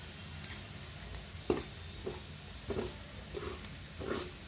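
Garlic frying in oil on low heat while asafoetida is added, a faint steady sizzle with a series of soft stirring taps and scrapes at irregular intervals, close and quiet without talk.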